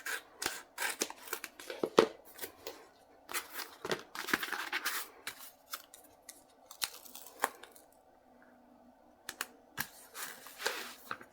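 Scissors snip repeatedly through paper in a series of short, crisp cuts that come in irregular bursts with brief pauses, close and fairly quiet, with no talking.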